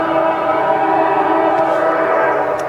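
A Norfolk Southern train passing nearby, a loud sustained horn-like tone over steady rail rumble for the whole stretch.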